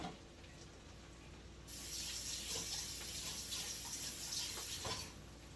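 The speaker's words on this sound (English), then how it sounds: "Actually, I just need to wash the knife only." Running tap water splashes over a kitchen knife being washed in a sink, a steady hiss that starts abruptly partway through and runs on, close and fairly quiet, with no talking.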